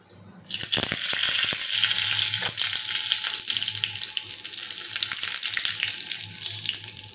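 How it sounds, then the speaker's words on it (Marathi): Curry leaves drop into hot oil already crackling with mustard seeds and a red chili for an adai tempering, setting off a sudden loud sizzle that stays strong and crackly to the end. "आणि याच्यामध्ये आता आपण कढीपत्ता टाकूया."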